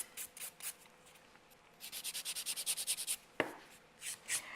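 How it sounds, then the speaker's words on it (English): A nail file scrapes rhythmically across UV gel nails, quick close strokes in a steady back-and-forth run with a brief pause and a tap before resuming. "I think there is still some excess thickness right here. So I will finish filing those."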